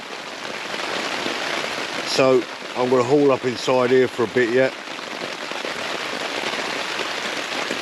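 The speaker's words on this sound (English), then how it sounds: "that rain's still coming." Dense, steady heavy rain hisses on a nearby ultralight tarp at a solo wild camp, with someone speaking briefly in the middle while the downpour continues unchanged.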